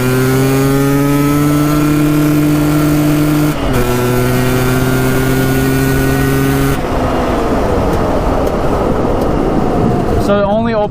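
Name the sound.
engine at full throttle in first gear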